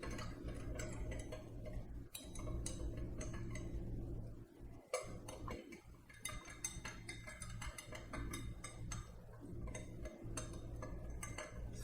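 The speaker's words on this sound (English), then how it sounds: "I'm going to take my fancy Matco Tools stir and give this a little stir" A Smoky Old Fashioned stirred with a metal Matco Tools bar stir, a rapid, steady ticking clink of metal against glass and ice repeating throughout, close and fairly loud.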